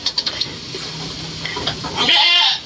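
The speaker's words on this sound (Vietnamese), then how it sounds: "Chuồng thì rộng mà dê thì thưa quá." Goats in a spacious, sparsely stocked farm pen, with light knocks and clatter giving way to a loud, close bleat near the end.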